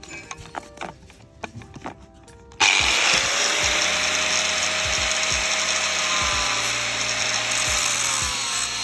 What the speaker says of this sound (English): The one right here, you can easily take it out using a grinder.